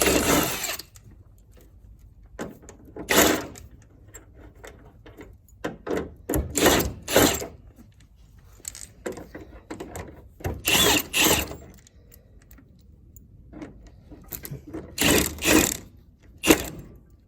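A power drill whirs in short bursts separated by pauses, several quick zips close by, like screws being driven out one after another from a car door's hardware.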